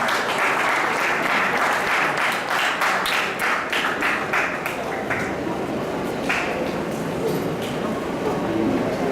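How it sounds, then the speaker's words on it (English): A conference audience gives a sustained round of applause, dense steady clapping that stays loud throughout with a few sharper individual claps standing out. "Round of applause, please"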